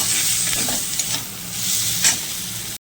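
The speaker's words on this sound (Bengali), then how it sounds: "এখানে একটুখানি হালকা করে জিরের গুঁড়ো দেবো" Ground cumin being stirred into a frying pan over a low flame, a steady close sizzle with brief scraping stir accents throughout, no voices.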